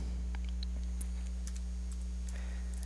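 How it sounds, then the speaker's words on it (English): An IP address being typed on a computer keyboard: sparse, light key clicks at an uneven pace over a steady low electrical hum, close and fairly quiet. "Just typing in the IP address on my computer."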